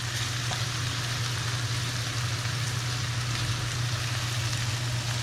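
Steak sizzling and browning in a hot pan for Mexican-style carne a la mexicana, a steady loud crackling fry with a low hum underneath, continuous throughout with no talking.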